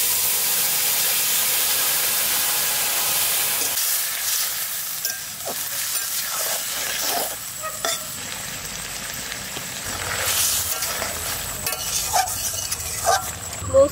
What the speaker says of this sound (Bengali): বাটা জিরে দিয়ে দেবো তেলের মধ্যে। তরকারিটা দিয়ে দিচ্ছি।